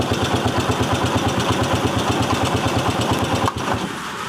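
A small engine idles with a rapid, even chugging pulse, steady and fairly close, then a brief dip near the end as it continues running alone without voices.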